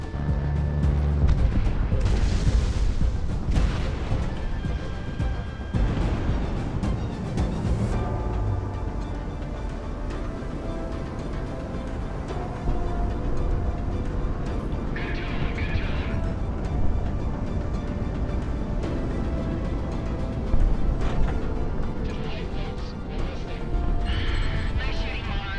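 Aircraft gunfire and explosions in the Project Wingman combat flight game, with rumbling booms, crashes and bursts of fire layered over a continuous engine roar for the whole stretch.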